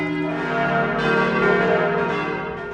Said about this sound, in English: So let the bells ring